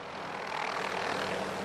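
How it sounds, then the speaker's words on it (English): A firefighting helicopter flies overhead ferrying water to wildfires near Lahaina, Hawaii, a steady broad rotor and engine roar that stays loud and even throughout. "This helicopter is making multiple trips, carrying water off to fight the wildfires still smouldering right across this area."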